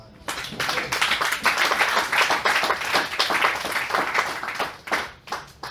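A church congregation applauds the Lord together, with dense, sustained clapping that swells quickly and holds steady for several seconds before thinning out near the end.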